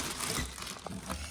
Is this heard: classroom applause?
no